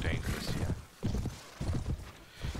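Horse hooves clop in Mount & Blade, giving a few dull, uneven thuds at moderate level as the rider dismounts, mixed with other game sounds.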